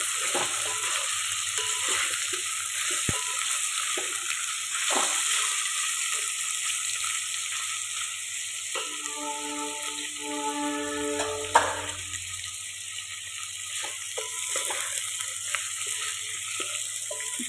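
Cashews for veg biryani frying in a pan, sizzling steadily with scraping strokes as they are stirred, alongside a constant high hiss and a brief run of tonal beeps partway through.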